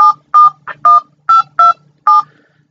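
Telephone keypad tones ring out as a number is dialed, seven crisp dual-pitch beeps in an uneven rhythm with short pauses, loud and clear against silence.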